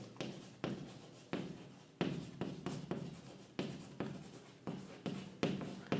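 Chalk or marker writing on a classroom board during a physics lesson, a close series of scratchy strokes each starting with a sharp tap, repeated in an uneven rhythm for several seconds with no talking.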